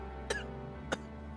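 Two short, soft coughs spaced about half a second apart over a faint steady background hum.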